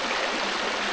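A stream rushes and burbles nearby in the backcountry, a dense, steady wash of flowing water heard close and alone without voices.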